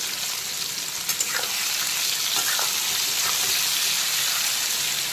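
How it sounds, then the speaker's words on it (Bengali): Chopped onion frying in hot oil with whole garam masala and bay leaf, a loud steady sizzle with a few soft stirring scrapes, close up and unbroken. "এখন দিয়ে দিচ্ছি পেঁয়াজ কুচি।"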